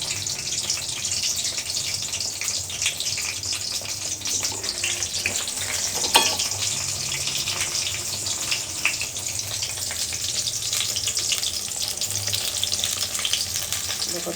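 Eggplant slices fry in oil with a dense, steady crackling hiss that runs throughout, close by, with one sharp clink partway and faint kitchen rumble beneath, no voices.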